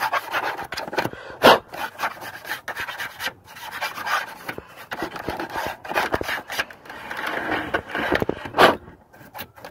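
A toothbrush scrubbing dust out of a PlayStation 4 console, irregular dry rubbing and rasping strokes in bursts, close and fairly quiet, with no voices.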